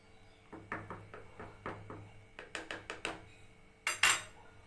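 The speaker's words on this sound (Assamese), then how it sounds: "আমি এতিয়া লৰাই আছোঁ।" A spoon stirs Assamese rice payakh in a pot over a medium gas flame, giving a series of light metallic clinks and scrapes, fairly close, that build toward a sharper clatter near the end.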